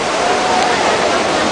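Water of the Trevi Fountain in Rome splashing and rushing as a steady broadband wash, loud and continuous, with no voices.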